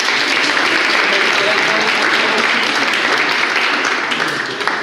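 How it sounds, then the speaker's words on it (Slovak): A rhetoric seminar audience breaks into loud, dense applause that holds steady for several seconds, close and full, tapering only slightly at the end, with no one speaking over it. "Potlesk pre vás, chlapi, aj pre vás."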